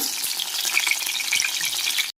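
Pieces of bitter gourd frying in hot oil give a steady, close, bright sizzle with crackling pops that continues unbroken, then cuts off abruptly.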